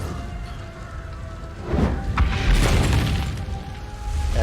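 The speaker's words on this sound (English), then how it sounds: "Oh, explosions." Explosions in the video game Assassin's Creed: Brotherhood boom in low, rumbling bursts over a steady background din, without any talk.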